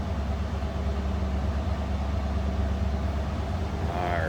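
A 1976 Lincoln Continental Mk IV idles close by, a steady low rumble that holds evenly throughout with no talking over it.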